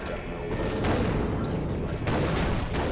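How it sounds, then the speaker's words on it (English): Grenade blast in Far Cry 3: Blood Dragon, heard as a dense, loud burst of booming gunfire-like explosions with a second surge near the end, under a faint voice. "Grenade out!"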